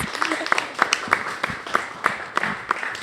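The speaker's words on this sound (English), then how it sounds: "Another round of applause" Studio audience applauding contestants at the championship round of a high school camera competition show, a short burst of hand clapping with distinct individual claps standing out while a voice talks over it.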